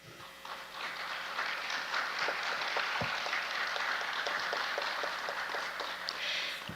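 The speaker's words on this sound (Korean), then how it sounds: "유의자 철학과 천부경에 대해서 발표를 해주신 차보영 교수님께 다시 한번 큰 박수 부탁드립니다" Sustained audience applause at a cultural festival following a lecture on philosophy and the Cheonbugyeong, dense steady clapping filling the room with no voices over it.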